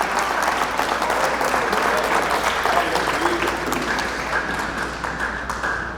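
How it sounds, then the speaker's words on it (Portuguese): Sustained applause from a church congregation during a Sunday service, a dense, even wash of many hands clapping that holds for several seconds and tapers slightly near the end. "Pode aplaudir a Ele."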